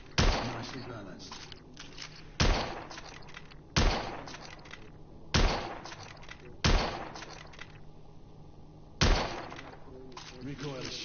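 Gunfire from a firearm in the video game The Order: 1886 rings out as six loud, separate shots spaced a second or two apart, each cracking sharply and then trailing off in a reverberant decay.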